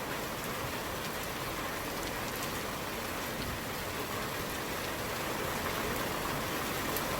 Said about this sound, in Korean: 지금 비가 어, 많이 쏟아지고 있는데요